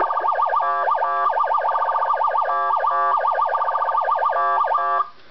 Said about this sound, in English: Your intersection tone is back to the old sound,